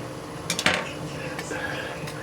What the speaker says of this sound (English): You want to whisk this in really good.